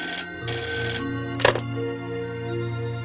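A telephone rings with a steady electronic trill in a Tamil TV serial scene, a few bursts close and clear over a low background hum, with no one speaking.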